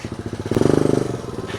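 Freshly repaired dirt bike engine running close by, a rapid pulsing putter that swells into a quick rev and then settles back to a steady throb.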